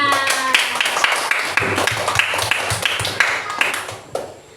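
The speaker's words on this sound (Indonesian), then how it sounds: "tepuk tangan untuk kita semua" A group of people clapping hands together in a classroom lesson, a dense burst of overlapping claps that carries on steadily and close by, with some voices mixed in.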